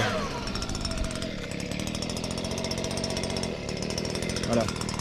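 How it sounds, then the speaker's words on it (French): A leaf blower roars steadily and loudly while clearing debris from a 1/8-scale pan car RC racing track, running continuously with brief dips in pitch. "Parce que là pour l'instant son engin c'est un souffleur."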